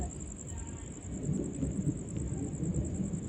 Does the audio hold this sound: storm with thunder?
yes